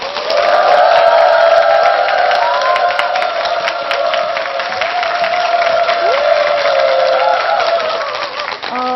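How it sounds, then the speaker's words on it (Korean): Applause and cheering from a lecture audience welcome a parenting-education speaker to the stage, a steady crowd roar that holds loud for several seconds and then tapers off near the end. "임서영 소장님을 큰 박수로 맞아주시기 바랍니다"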